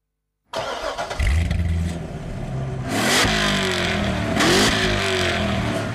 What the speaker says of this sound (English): butterfly valves in the exhaust system make it almost as loud